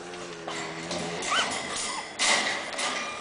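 Five-week-old pug puppies whimper in a few brief, thin rising whines over a low rustling background, close by and fairly soft.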